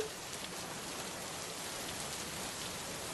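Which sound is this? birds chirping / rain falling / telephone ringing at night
rain falling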